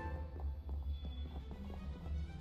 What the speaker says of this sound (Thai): เสียงเท้าวิ่งอยู่บนเรือ